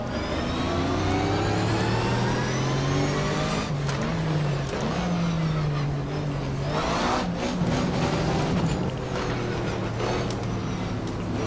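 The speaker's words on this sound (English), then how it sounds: "Now I can hear my engine and not their engines" Porsche race car engine in a racing video game, a loud continuous drone that rises and falls with gear shifts and throttle changes, steady from start to end, with no talk over it.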